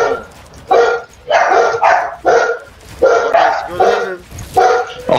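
A dog barks repeatedly in close, loud, rhythmic bursts, about eight barks in a few seconds with brief gaps between them.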